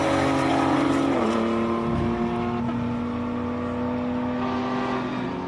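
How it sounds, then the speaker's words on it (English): Rally raid race cars built for Dakar-style events accelerate hard up a hillclimb course, a loud sustained engine roar with rising and shifting revs close by, echoing around the hillside. "So these are these rally raid cars. They're built for rally raid in South Africa, also for Dakar."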